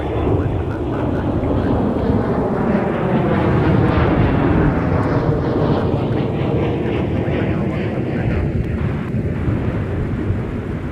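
A jet aircraft at MSP airport roars loudly and close for about eleven seconds, a dense rumbling wash with a whining engine tone that rises and falls in pitch, with no talking over it.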